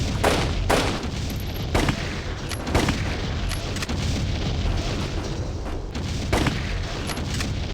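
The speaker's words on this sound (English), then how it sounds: "He throws grenades like his life depends on it" Repeated blasts from grenades thrown by an enemy in the shooter game Mortyr, several sharp booms at irregular intervals over dense, continuous gunfire and battle noise.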